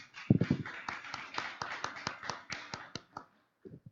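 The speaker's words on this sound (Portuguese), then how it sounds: "Gostaria de pedir uma salva de palmas aí para o nosso vídeo" Sharp, distinct claps ring out at a council session, a small group clapping in a loose, uneven rhythm that tapers off, followed by a brief quiet and a couple of last claps.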